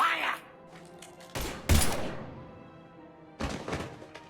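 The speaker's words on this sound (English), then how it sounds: "Now open fire!" Gunfire erupts in the video game Mass Effect 3, with sharp bursts of shots and heavy thuds around two and three and a half seconds, mixed with game music, effects and some speech.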